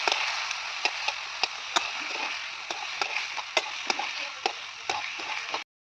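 Vegetables, tomato, green chilies and spices are stirred in hot frying oil, giving a steady soft sizzle broken by light, irregular scraping clicks from the spoon.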